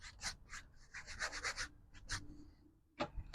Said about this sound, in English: Just really scrub it in.